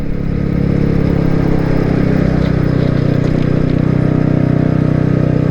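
A motorcycle ridden on a commuter run, its engine droning loud and steady with a continuous mid-range growl and some clatter, heard up close from the bike itself throughout.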